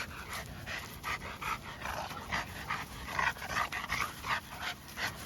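An XL Bully dog panting rapidly and whimpering, a close, steady rhythm of breathy pants with soft whines mixed in, continuing throughout.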